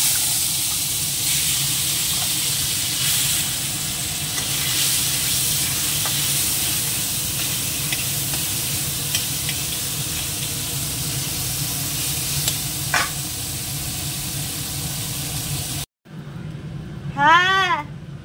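Salted fish frying in hot oil gives a steady, dense sizzle for about sixteen seconds, then breaks off abruptly and is followed by a short, wavering tonal call.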